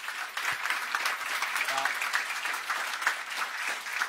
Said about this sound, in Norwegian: Ja, gi en applaus